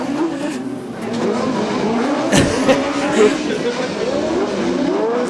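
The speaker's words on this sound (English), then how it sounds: "So these guys have never ever turned left. They're having a whale of a time. Oval racing cars." Oval racing cars circle a track at a drifting event, their engines droning and revving with a sharp burst and tyre squeal midway. A commentator talks throughout.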